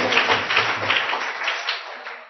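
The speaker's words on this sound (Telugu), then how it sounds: "చప్పట్లు కొడదాం." A church congregation claps together during worship, a dense steady patter of many hands that continues throughout, then thins and fades slightly toward the end.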